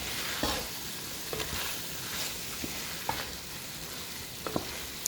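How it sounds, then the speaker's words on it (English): Rinsed split peas and other ingredients are stirred into soup in a pot, a quiet wet swishing and bubbling with a few light knocks of the spoon against the pot, and no one speaks. "I'm just gonna stir everything in there."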